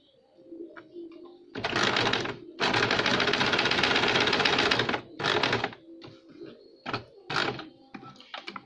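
A sewing machine runs a diagonal seam on a blouse lining in bursts: a short run, a long steady whir of several seconds, then a few brief stutters, close and alone over a quiet room.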